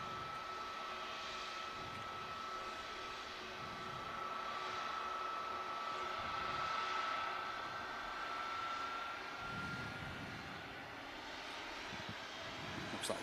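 A C-130 Hercules military aircraft flies overhead near Manchester Airport, a faint but steady propeller drone with a sustained tonal hum that rises and eases slightly as it passes.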